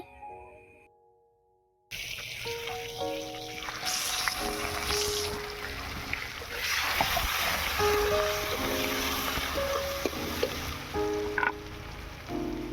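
Chopped onion hits hot mustard oil and sizzles, a steady, close frying hiss that starts abruptly after a short quiet lead-in and keeps going under light melodic background tones.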